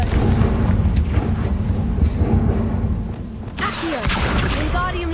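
Confringo fire-blast spell cast in the Hogwarts Legacy video game, a heavy rumbling boom that rolls on for several seconds before a sharper crackling burst; no one speaks.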